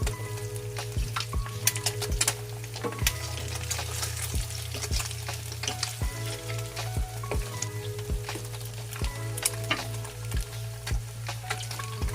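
Egg and Spam fry in a hot pan for breakfast, a dense, steady sizzle and spatter with crackling pops, close and continuous over a low kitchen hum.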